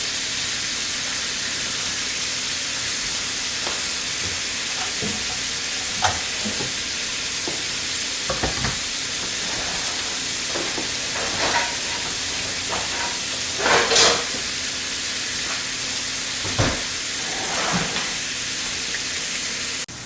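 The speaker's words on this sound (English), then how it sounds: "While the bacon's cooking, let's go ahead and get some of our toppings and such ready." Bacon frying in a pan gives a steady, loud sizzle and crackle throughout, with scattered sharper pops and a few clinks of a utensil against the pan.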